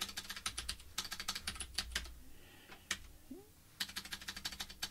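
Someone types a git push command on a computer keyboard, giving rapid bursts of close keystrokes separated by a short pause.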